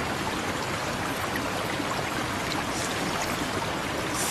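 Water moves steadily with a continuous splashing, trickling wash as someone swims in a pool at night, a dense broadband rush that holds even and fairly loud throughout.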